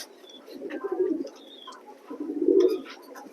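A chocolate grizzle pair of racing pigeons coo at close range in two soft, throaty bursts, with faint chirps from other birds in the loft behind them.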